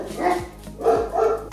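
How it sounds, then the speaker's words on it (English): Dogs bark three times in quick succession nearby, each bark loud and sharp with brief pauses between them. "My dogs started barking."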